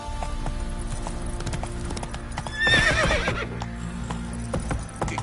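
Video game horse Roach gallops in a steady clip-clop rhythm of hooves, with a whinny breaking out midway, close and fairly loud over a busy game soundscape.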